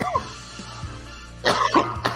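A person coughs a couple of times close to the mic, after a quieter stretch with a little background sound.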